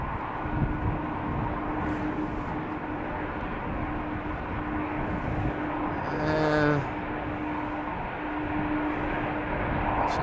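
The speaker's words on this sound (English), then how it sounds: "we are seeing a 777 from United taxiing over here" A United Boeing 777 taxiing at Schiphol Airport, heard as a steady, broad engine rumble and whine with a brief tonal swell midway, continuous and moderately distant with no talk.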